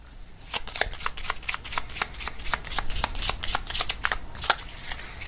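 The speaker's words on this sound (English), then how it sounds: "let's see what comes through the oracle cards for their thoughts about you" Oracle cards are shuffled in quick, crisp riffling bursts that repeat in a steady rhythm, close and clear with no talking over them.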